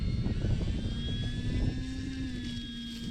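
RC Tecnam 2010 model airplane coming in for a grass landing, its electric motor whining steadily close by with a constant pitch and a slight rise near the end, loud and without voices.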